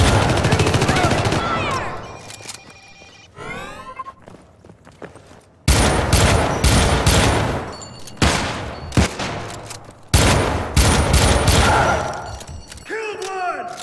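Video game gunfire in the co-op shooter Syndicate comes in loud bursts of automatic fire with heavy thuds and impacts, separated by quieter gaps, with players talking over the action.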